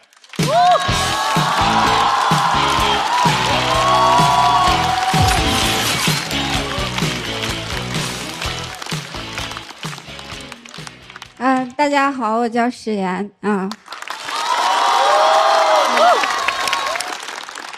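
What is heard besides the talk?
audience applause welcoming a stand-up comedian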